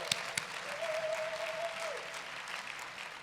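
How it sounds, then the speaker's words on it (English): An audience at a student-entertainment general session applauds steadily throughout, a dense, even wash of clapping, with a brief whoop and a sustained tone partway through. "Big round of applause"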